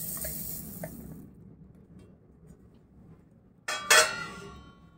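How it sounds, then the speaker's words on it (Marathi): Roasted, cooled coriander seeds are tipped into a mixer jar at home, giving a short, close burst of dry rattling and clinking near the end after a quiet stretch. "मिक्सर जारमध्ये टाकून घेते।"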